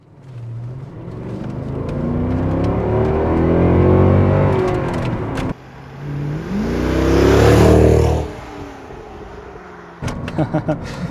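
A Mercedes W219 CLS63 AMG accelerates hard on a public road, its V8 engine rising in two long loud revving pulls with a gear change between, followed by a short burst of crackles.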